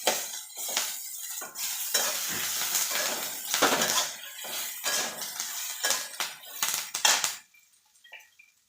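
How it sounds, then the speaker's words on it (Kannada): Tamarind pieces are dry-roasted in a pan with a spoon or spatula, giving repeated bursts of scraping, rattling and light sizzling. The stirring strokes come close and loud, then stop abruptly near the end, leaving quiet. "ಹುಣ್ಸೆಹಣ್ಣನ್ನು ಇದ್ರಾಗ ಹಾಕಿ ಹುರ್ಕೋತೀನಿ."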